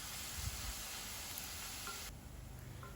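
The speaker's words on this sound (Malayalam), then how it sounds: "സവാള ഇനി നന്നായിട്ട് വഴറ്റിയെടുക്കണം" Two medium onions, chopped and salted, sizzle in a hot pan as they sauté for a mixed sprouts curry. It is a steady, close frying hiss that drops abruptly to a softer sizzle near the end, with no talking.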